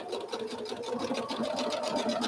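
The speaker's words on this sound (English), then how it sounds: "I'm going to start sewing a 1/4 inch seam allowance right along this pinned edge" Sewing machine stitching a quarter-inch seam along a pinned edge of quilt fabric, a fast continuous mechanical whir with rapid needle clatter, close and steady for a couple of seconds.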